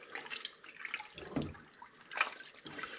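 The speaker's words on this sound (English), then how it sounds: "So I'm going to give this a good stir." Home brew raspberry ripple porter being stirred with dissolving brewing sugar, giving soft liquid swishing and sloshing with a few louder splashy strokes, close by and fairly quiet, with no talking.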